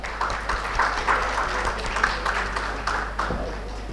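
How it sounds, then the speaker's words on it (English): Applause from the audience at the RailTrans Expo 2024 Urban Infra Summit, a steady wash of clapping that holds throughout at moderate level, with a faint voice underneath. "Can we please have a big round of applause for sir?"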